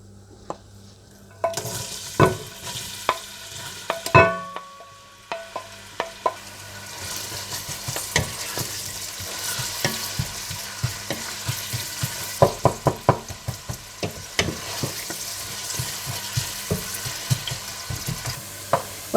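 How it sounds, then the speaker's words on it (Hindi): Onions sizzle in hot ghee for a keema chanp dish, a steady close frying hiss broken by repeated stirring knocks and scrapes of a utensil in the pan, with no talking. "घी गरम करके इसमें प्याज डालकर हल्के ब्राउन कर लें।"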